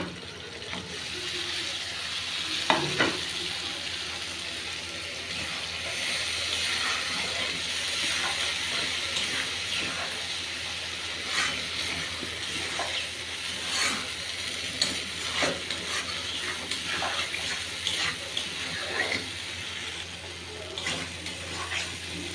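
Potatoes frying in oil in a home kitchen for an egg-based paneer dish. A steady, close sizzle runs throughout, broken by clattering stirs and scraping, with one sharp knock early on.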